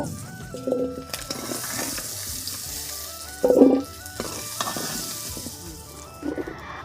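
Potatoes fry in oil in a pan with a constant close sizzle, broken by a few louder bursts and clatters as they are moved.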